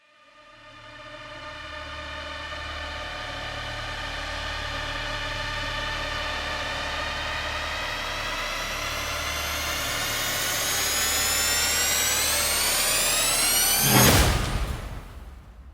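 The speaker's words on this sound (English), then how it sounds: "That's like a long riser with a hit." A cinematic trailer sound patch, a long riser with a hit, builds for about fourteen seconds as a steadily climbing, swelling tone with a noisy engine-like texture, then ends in a sharp, loud impact that quickly decays.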